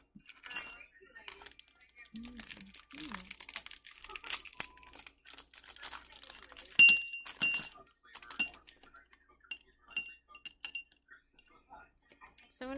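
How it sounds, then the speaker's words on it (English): Tarot cards being shuffled, with soft papery riffles, taps and crinkles in uneven bursts, close up and fairly quiet, plus a faint voice briefly. "So I'm going to shuffle the cards"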